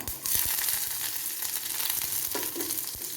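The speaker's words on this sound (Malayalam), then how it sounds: "കടുക് പൊട്ടി നമുക്ക് ഉള്ളി ഇട്ട് കൊടുക്കാം" Onions sizzle loudly and steadily in hot oil after mustard seeds have popped, with a few soft stirring knocks in the pan and no voices.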